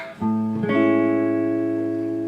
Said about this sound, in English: a major seventh chord is comprised of a root, a major third, a perfect fifth, and a major seventh